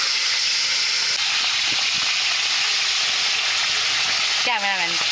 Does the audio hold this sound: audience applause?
no